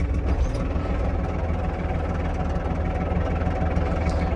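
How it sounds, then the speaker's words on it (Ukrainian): A small Japanese Iseki Geas TG-253 mini tractor engine chugs steadily at low revs in its lowest gear, a close, continuous rumbling throb with a rhythmic knock and no voices. "тракторець їде на самій низькій швидкості"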